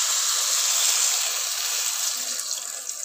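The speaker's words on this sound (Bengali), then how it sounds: "জল দিয়ে দেবো" Water pours steadily into a pan of curry made with mustard and poppy seed paste, bean and potato, a continuous close hissing stream that stays even throughout.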